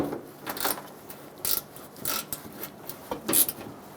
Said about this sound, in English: start your first screw on the end here. Once you get that started, tighten it down